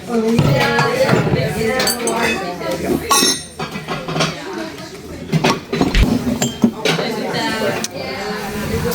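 Crystal glassware and dishes being handled while shopping, with several light clinks and knocks scattered under someone talking.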